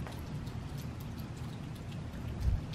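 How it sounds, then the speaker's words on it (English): Rain patters steadily during a lightning storm, a soft continuous hiss of falling drops with a low thump near the end. "here comes the rain"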